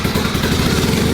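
A rebuilt Porsche 911 GT3 RS engine, restored after the car was submerged in water, runs loud and close in a brief burst of rapid, pulsing exhaust throb.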